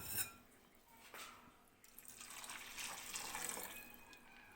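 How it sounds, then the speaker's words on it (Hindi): Sugar syrup pours into malai halwa made with desi ghee, a faint, continuous liquid trickle and splash, quiet and close, with no talk. "चाशनी इसमें हम डाल चुके हैं।"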